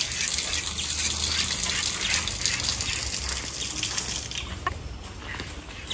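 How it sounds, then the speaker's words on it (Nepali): Water gushes from an opened tap in a strong, steady rush heard up close, easing slightly toward the end. "उसको लग रहा है पानी ओपन करके उधर से पानी आएगा"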